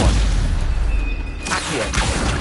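Stupefy spell cast in Hogwarts Legacy: a loud, booming magical impact with whooshing bursts, dense and continuous over a short moment of game combat.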